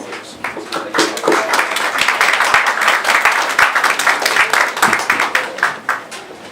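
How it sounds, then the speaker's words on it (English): A crowd at an African festival applauds a judge as he steps up to speak, dense and lively clapping that holds steady and loud, with some sharper individual claps. "please, a round of applause for him"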